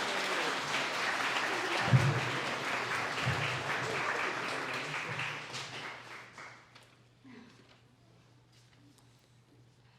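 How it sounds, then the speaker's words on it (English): Wedding guests applaud after the vows, a steady round of clapping from a small gathering that fades out over several seconds into near quiet. "Let's get a round of applause, everybody."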